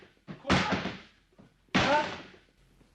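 A door being broken open with a hammer: two heavy, loud crashing blows about a second apart, each a sharp impact followed by a ringing decay, with faint sounds between.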